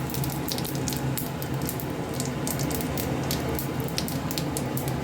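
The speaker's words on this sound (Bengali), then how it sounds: "এটার মধ্যে জিরে ফোড়ন দিয়ে দিচ্ছি" Whole cumin seeds and a dried chilli spit and crackle in hot oil for a Bengali potol dish, a dense, steady sizzle with frequent sharp pops close up and no one speaking.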